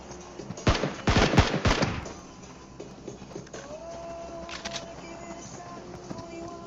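Rapid gunfire in a battle royale video game during team scrims, with a loud cluster of quick shots early and fainter bursts later over a steady game hum.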